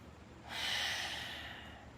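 Single deep breath drawn in and let out during a diagonal yoga lunge, one long airy swell that rises sharply, holds, then slowly fades, close and fairly soft with no talking.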